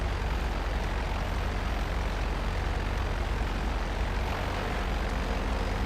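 A B-11 jet aircraft flying in GTA Online, heard as a steady, loud, broadband engine roar that holds constant without a break.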